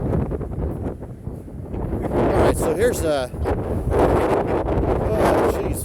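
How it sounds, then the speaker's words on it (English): Strong wind buffets the microphone at Land's End, San Francisco, a continuous loud roar under a person talking briefly. "It's fucking windy as shit, you guys"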